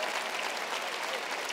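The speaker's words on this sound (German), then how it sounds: "Vielen Dank für diesen Applaus" A brief, steady burst of applause from a large comedy show audience at the 1LIVE Köln Comedy-Nacht XXL, dense and unbroken for a second and a half.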